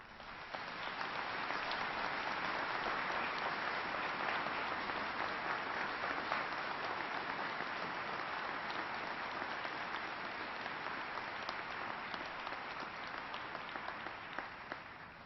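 A large outdoor crowd at a Memorial Day ceremony at Arlington National Cemetery applauds veterans' national leadership, a long, steady, somewhat distant wash of clapping with no voices over it.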